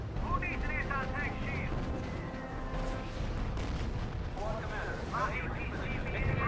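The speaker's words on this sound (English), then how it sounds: "Enemy artillery is pounding us from the beach" Enemy artillery pounding a beach in the RUSE strategy game: a continuous barrage of deep booms and rumbling blasts, with voices speaking over the bombardment.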